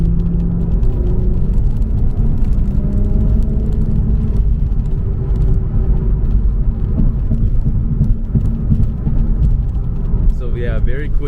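An all-wheel-drive Infiniti Q60 accelerates hard as its turbo spools up, giving a loud, continuous, dense engine rumble and whir that holds steady throughout, with muffled voices underneath.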